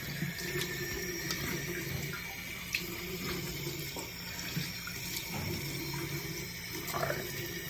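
Water runs steadily from a tap into a sink while face product is washed off, a continuous close hiss with small splashes and shifts in flow, no talking.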